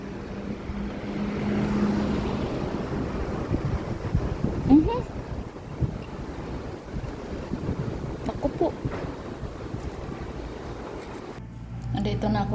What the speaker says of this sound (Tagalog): Hmm, ang hangin, nagliparan yung mga alikabok.